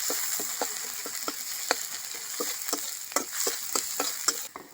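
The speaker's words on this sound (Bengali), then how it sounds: "দুটো তেজপাতা দিয়ে দিলাম তেলের মধ্যে, একটু কাঁচা লঙ্কা কুচি, পেঁয়াজ কুচি, আদা রসুন বাটা দিয়ে ভালো করে মশলাটা রেডি করে নেব" Bay leaves, chopped green chilli, onion and ginger-garlic paste frying in oil, a steady sizzle broken by regular clicking strokes of a stirring utensil, close and alone.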